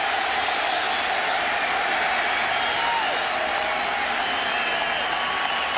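A football stadium crowd at a 1997 Michigan versus Iowa game cheers and applauds in a steady, dense roar that fills the whole stretch without letting up.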